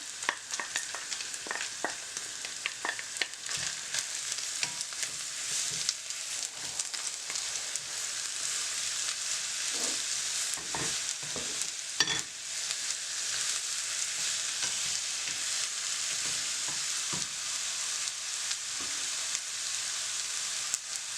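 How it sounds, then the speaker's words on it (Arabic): Chicken frying in a pan with onion and garlic for Ramadan savoury pastry filling, a steady soft sizzle and crackle with scattered stirring clicks running throughout. "هذا الدجاج هذا هكا يتقلى مزيان"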